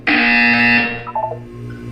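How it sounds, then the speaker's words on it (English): A loud, harsh electronic buzzer in the video game Portal 2 blares steadily for almost a second, then cuts off, followed by a few quieter electronic tones over a low hum. "You will hear a buzzer."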